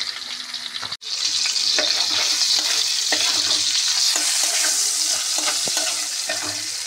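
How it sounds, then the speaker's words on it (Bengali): Cauliflower fries in a pan with whole cumin seeds added for tempering, a loud, continuous sizzle with a brief break near the start and occasional light scrapes of stirring. "ফুলকপিটা দেখছেন একদম ভাজা হয়ে গেছে। এর মধ্যে একটু গোটা জিরে ফোড়ন দিয়ে দিলাম।"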